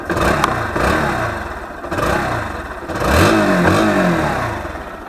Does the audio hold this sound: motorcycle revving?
yes